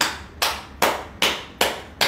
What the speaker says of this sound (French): Des gens applaudissez.